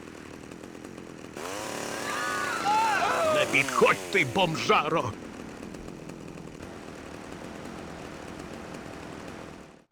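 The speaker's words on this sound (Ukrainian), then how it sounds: "О, Боже, у нього пила." A chainsaw revs in GTA Vice City, a loud buzzing engine that rises and wavers in pitch for a few seconds before dropping away, with a voice speaking over it.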